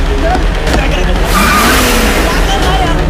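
A car roars off with skidding, squealing tyres in a tense Hindi action film scene, the loud engine and screech rising mid-clip over a dense rumbling mix while voices shout urgently on top.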